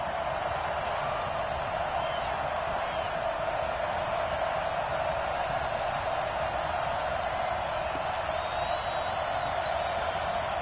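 Stadium crowd noise in an American football video game on PS4 swells steadily as a two-point conversion attempt looms late in the fourth quarter, a dense continuous roar with scattered whoops, heard under a play-by-play commentator's voice.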